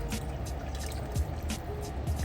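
Water trickles and splashes softly into a pot of Tunisian couscous stew with meat and tomato, a faint, continuous pour with light drips.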